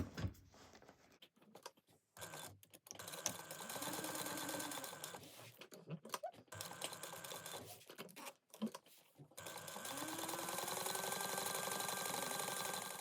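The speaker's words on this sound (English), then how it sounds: "we're going to top stitch through this at 1/8 of an inch" A sewing machine top stitches through fabric and lining at close range, running in a steady whirring burst, stopping and starting a few times before another long, even run.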